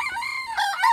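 A fighting cock crows loudly at close range, a single drawn-out cock-a-doodle-doo with a rising final note, set in an Ilokano radio drama. No one speaks during the crow.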